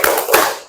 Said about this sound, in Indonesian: Ayo mulai tepuk surat Al-Ma'un.